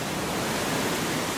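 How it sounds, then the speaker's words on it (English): Wind sweeps over the bay at Blackgang on the Isle of Wight, churning waves below and stirring tree branches, a loud, dense, unbroken rushing roar with no voices. "just pausing for a moment to listen to the wind, not just whipping up the waves down there in the bay, but also stirring the tops of these tree branches"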